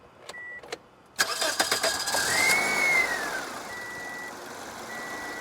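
A Toyota Corolla with a P0171 fault code cranks briefly with rapid clicking churns, then catches and settles into a steady idle. Faint beeps sound before and after, and no one speaks.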